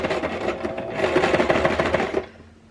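A sewing machine runs in a quick continuous burst of needle chatter along the edge of a fabric face mask, close and fairly loud, stopping abruptly after about two seconds.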